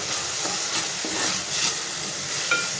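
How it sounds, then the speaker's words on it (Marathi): Turmeric, goda masala and homemade Agri masala are sautéed in a pan, giving a steady low sizzle and hiss with occasional soft stirring scrapes. "हळद आणि घरगुती आगरी मसाला आणि हे व्यवस्थित परतून घ्यायचं"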